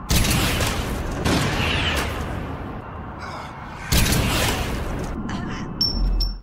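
Gunfire rings out in a shootout from a zombie film, as two characters exchange shots at close range. Loud, sharp bursts come at a few separated moments over a busy, dramatic soundtrack.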